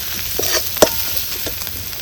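Spiced masala with chili powder and salt sizzles in a pan for a village-style Maharashtrian bombil curry, stirred with steady scraping and one sharp clink of the utensil midway, with no voices.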